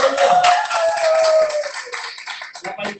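Congregation clapping at a church service, a short burst of fairly loud, dense applause that tapers off over about three seconds, mixed with voices and a tonal musical hum.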